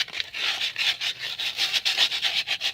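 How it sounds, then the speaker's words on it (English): Close, steady back-and-forth scratching of 220-grit sandpaper rubbing rust off a metal part on a workhorse repair, repeated strokes in an even rhythm with no talking. "I like to just sand this down a little bit"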